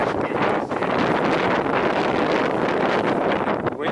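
Strong winter-storm wind buffets the microphone in a steady, loud roar that fills the whole stretch, with gusty rustle and no pauses.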